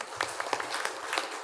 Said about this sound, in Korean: 우리 찬양대원들에게 박수 한번 보내십시다